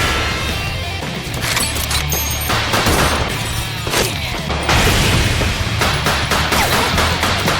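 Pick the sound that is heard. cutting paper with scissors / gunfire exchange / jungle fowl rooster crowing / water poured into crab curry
gunfire exchange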